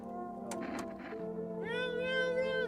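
A domestic cat lets out a drawn-out, rising meow near the microphone after a few seconds of quieter murmuring and faint voice-like sounds.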